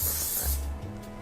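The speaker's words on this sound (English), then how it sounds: "Let's just get some grease up in here." Cooking grease sprayed into a cake tin, a single close hissing burst about half a second long fading into quiet handling.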